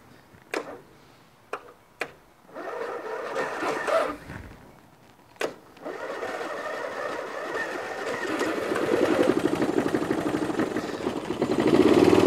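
A Toro Wheelhorse 1238XL lawn tractor engine, cold, gives a few sharp clicks and cranking bursts before catching and settling into a steady, rough idle that grows slightly louder, heard up close.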